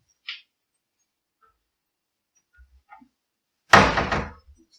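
A kitchen pantry door opens with a short click and a few soft taps, then a louder woody thunk and rattle near the end, in an otherwise quiet room.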